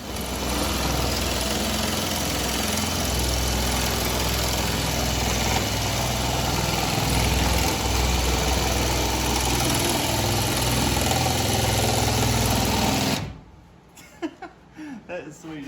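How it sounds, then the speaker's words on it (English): Grinder cutting through a 1974 Chevy Nova quarter panel, a loud sustained rough roar for about thirteen seconds that cuts off abruptly, followed by a few quiet knocks. "And then finish cutting this, I guess, with the grinder."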